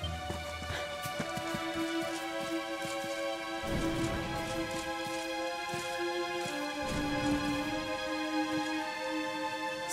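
Steady rain falling in the video game Dragon Quest XI, a continuous hiss with occasional heavier swells, mixed with sustained game music.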